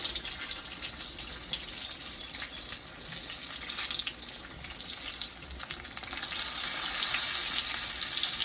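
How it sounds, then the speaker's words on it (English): Steady bubbling sizzle of Jamaican cabbage and salt-fish fritters frying in hot oil, close and continuous, rising to a louder crackle toward the end, with no talking. "as you can see, my fritters is frying."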